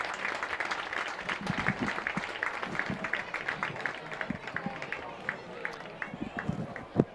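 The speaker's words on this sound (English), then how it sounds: "Round of applause here from the Geneseo crowd." A football crowd at Geneseo gives scattered, fairly distant applause, with uneven clapping running throughout under a commentator's voice.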